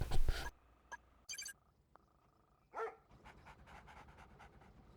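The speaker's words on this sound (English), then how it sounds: "So I'm making 3 scout dogs" Scout dogs in the real-time strategy game Red Alert 2 pant and whimper in short, close bursts, separated by quiet gaps, with game effects and low background sound continuing under them.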